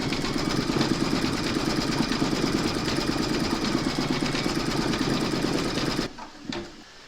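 An embroidery machine stitches a koala applique ear in lighter grey thread, a fast, steady, close mechanical rattle that runs for about six seconds and then stops, leaving a few faint clicks.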